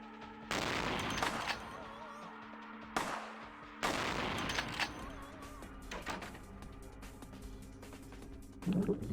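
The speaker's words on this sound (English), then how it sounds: "Please stand still while I try to shoot off your head with a shotgun." Shotgun fire in the video game Vampire: The Masquerade – Bloodlines, with three loud booming blasts followed by sustained noisy gunfire and rattling, plus scattered clanks and a short burst at the end.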